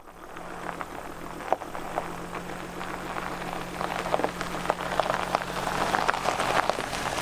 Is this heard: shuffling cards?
no